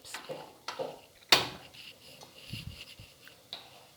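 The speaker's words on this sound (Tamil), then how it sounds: "ஒரு பாத்திரத்தை வச்சுட்டேன்." A cooking pot is set down on a kitchen stove with one sharp metallic clank, surrounded by lighter taps and quiet handling noises.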